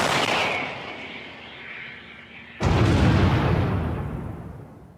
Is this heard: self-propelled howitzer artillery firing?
yes